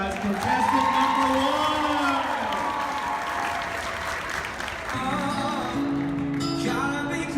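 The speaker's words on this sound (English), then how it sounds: "Give them a big round of applause, guys." A crowd at a Dallas bridal show applauds and cheers for contestants, with loud, sustained clapping that fills the room, scattered whoops, and voices calling out over it throughout.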